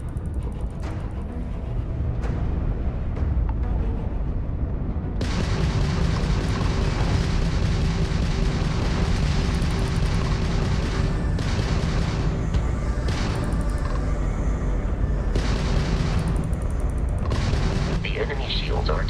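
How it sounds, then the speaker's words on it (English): Spaceship weapons in Starfield fire homing missiles in a dense, continuous space battle, with repeated booms and bursts layered over a loud roar while a voice talks. "If you can keep the enemy ship centered on the HUD, we can lock in to fire a homing missile."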